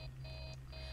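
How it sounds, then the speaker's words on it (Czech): Steady electronic alarm beeping in Five Nights at Freddy's 3, pulsing tones repeating in an even rhythm over a low constant hum, loud and alone with no voices. "asi nějaký alarm"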